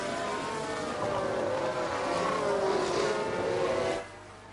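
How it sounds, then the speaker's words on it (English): A race car engine whines and drones in the F1 Manager 22 racing game on PS5, its pitch wavering as the car spins out, then cutting off abruptly to a quieter hum. "Sounds like we've had a spin."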